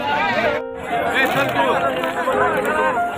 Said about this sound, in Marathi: भक्तांची मोठ्या प्रमाणात गर्दी आहे या ठिकाणी बघू शकता